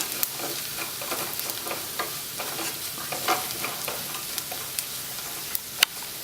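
Close-up spatula scraping and stirring turmeric and garam masala powder in a hot frying pan over a steady sizzle, for potato biryani, with occasional sharper clinks of utensil against metal; no talking.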